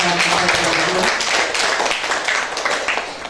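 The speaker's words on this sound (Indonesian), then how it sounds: "Dan kita tepuk tangan dulu lah untuk kejadian ini." Audience applause at a seminar, a dense continuous clapping from a crowd filling the room, with a voice briefly heard under it at the start.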